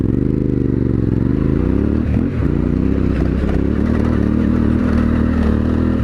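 A Yamaha Tenere 700 adventure motorcycle rides onto an off-road section near Death Valley and Moab, its engine droning loud and steady with a brief dip in revs, plus gravelly clatter and scraping from the terrain.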